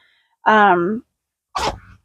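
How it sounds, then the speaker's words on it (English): A pet sneezes, a short voiced snort followed after a pause by a sharper second burst, close and fairly loud in an otherwise quiet room. "My poor little Anzo is sneezing"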